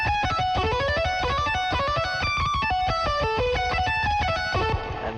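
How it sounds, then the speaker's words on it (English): A layered lead guitar melody from a song's production plays loud and alone, moving through quick stepped notes over a steady beat before cutting off near the end. "you have like a layered melody, which is this lead guitar"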